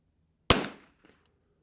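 A single sharp rifle shot fired at a target with 40 grain competition ammunition, loud and close with a short decaying tail, followed by a faint click or two and no talking.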